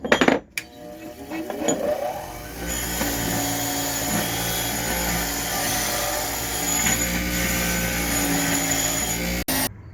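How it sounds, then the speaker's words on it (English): A wire wheel on a power tool scrubs black oxide coating off a gas pipe. The grinding whine runs steady and loud for most of the stretch, after a few short clanks at the start. "Use wire brush, wire wheel, clean everything very, very well."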